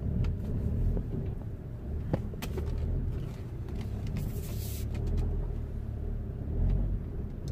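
A Volkswagen Passat, recently repaired for an ABS/ESP fault, drives along the road with a steady low engine and road rumble. Brief brighter swishes pass over it, and it stays continuous and close throughout.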